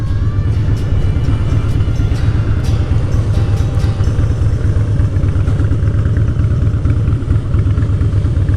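A Night Train motorcycle runs with a loud, steady engine rumble and some clatter after the gear shifter is kicked down, the shifter lacking spring tension; no one speaks.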